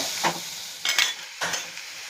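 Onions, cooked pulses and drumstick leaves stirred in a pan, three short scraping swishes over a faint sizzle, close and with no speech.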